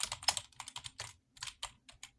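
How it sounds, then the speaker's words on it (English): Rapid, uneven keystrokes clatter on a computer keyboard, close and fairly loud, in quick bursts with short pauses between runs of typing. "Yeah, I'm typing so hard"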